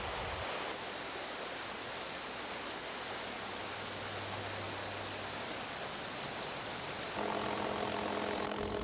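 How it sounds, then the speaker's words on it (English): A helicopter in remote Alaska roars steadily with a broad, rushing engine and rotor drone, joined near the end by a louder whining tone. "It is the helicopter that is providing access to many remote locations"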